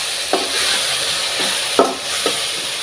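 A ridge gourd and tomato stir fry hisses steadily in a pan while a spoon stirs it, making three distinct scraping strokes over the constant sizzle.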